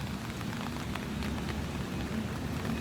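Steady rain falls on a Hanoi street, a continuous dense hiss of drops pattering on surfaces with a low rumbling undertone, close and even throughout, with no voices.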